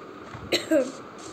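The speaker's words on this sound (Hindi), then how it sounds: "सारी खांसी आ रही है" A single short cough, followed by a brief throat-clearing sound, close and fairly quiet against a hushed background.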